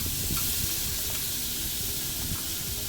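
Onion, salt, turmeric and chili spice paste hisses and sizzles steadily in hot oil on a stove, a close, continuous frying sound without talk.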